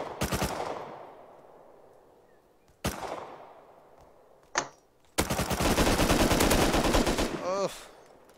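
MP5 and Python revolver gunfire in the survival game Rust during a one-on-one duel: several loud bursts and single cracks with decaying echoes, separated by pauses, ending in a long sustained rapid-fire volley.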